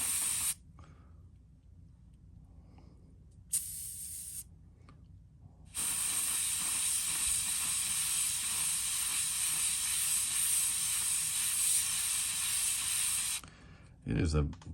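A paint spray gun hisses in short bursts while custom painting a fishing lure, then sprays in one long, steady, close hiss before cutting off.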